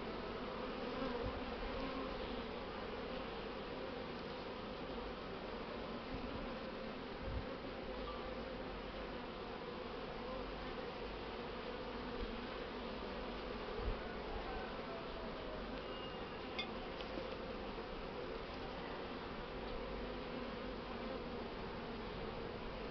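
Honeybees swarm-split from a hive being divided, a dense continuous buzzing drone filling the whole stretch at steady level, close and without voices.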